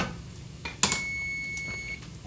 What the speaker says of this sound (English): So the timer's about to go off.